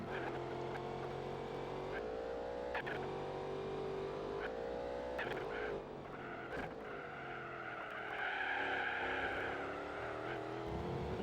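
Ford GT race car in Gran Turismo 4 accelerating hard, engine pitch sweeping upward through several gear shifts, loud and steady with a brief dip midway before revving higher again.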